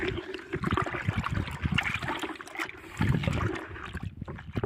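Pesticide powder is stirred round and round in a container of water, producing continuous sloshing, swirling and trickling sounds with a few heavier splashes, close by and without talk.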